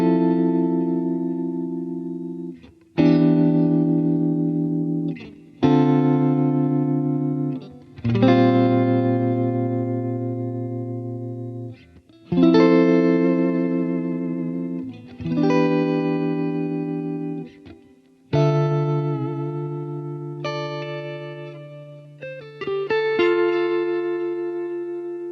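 Electric guitar played through a Fender Tone Master Pro amp modeller with distortion, delay, reverb, tremolo and shimmer effects: sustained distorted chords ring out and decay one after another, with echoing tails and a shimmering wash, no voices.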